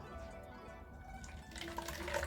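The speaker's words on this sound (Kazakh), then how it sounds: "мынандай кәдімгі баклажкаға фильтрованный су құям" Filtered drinking water pours into a plastic bottle, a quiet trickle with faint drips that grows fuller and brighter as the bottle fills, heard close and alone.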